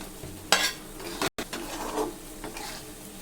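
Small fish and pointed gourd cook in a pan with salt and turmeric for a sour fish curry, giving a faint sizzle with a few scraping stirs and a brief break partway through.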